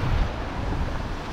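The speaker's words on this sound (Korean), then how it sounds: "오늘 근데 파도가 세가지고" Strong ocean waves break at the shore in a continuous, loud roar of surf with heavy low rumble and wind noise, and no voices.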